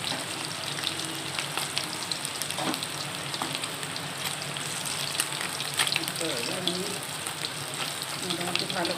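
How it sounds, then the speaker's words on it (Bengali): Vegetables frying in oil in a pan, a continuous close sizzle and crackle with occasional scraping stirs, fairly soft overall. "লাল লাল করে ভালো করেই ভাজতে হবে।"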